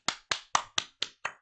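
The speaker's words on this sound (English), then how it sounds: "We deserve an applause." Six sharp, evenly spaced hand claps ring out close and clear, each with a short decay, forming a brief round of applause.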